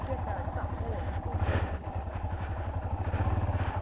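A Yamaha XT 660 motorcycle stuck in a roadside ditch, its engine revving with a steady low throbbing pulse as the rear wheel spins in place, close and loud, with someone talking over it.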